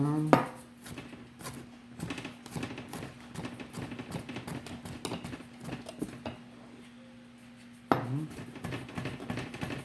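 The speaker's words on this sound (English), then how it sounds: "Alright, we're almost done here cutting this up." A knife chops guacamole ingredients on a cutting board in a quick, steady run of close taps with a few louder knocks at the start and near the end, and no voices.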